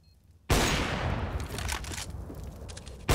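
Gunshots in a competitive Counter-Strike match, a loud burst of rapid fire that starts abruptly and rattles on, decaying over a few seconds before another sharp shot at the end.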